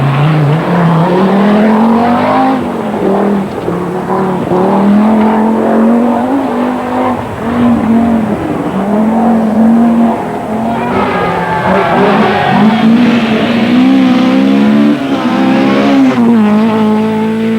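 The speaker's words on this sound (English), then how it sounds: "the four-wheel drive turbocharged Audi Quattro. Undoubtedly the most technically advanced rally car ever to ride the forest roads" Four-wheel drive turbocharged Audi Quattro rally car racing along forest roads, its engine loud and close with a steady rasping drone that rises and falls through gear changes, joined by higher revving toward the end.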